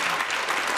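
A studio audience at a television interview programme claps in dense, steady applause, filling the short moment evenly at moderate loudness.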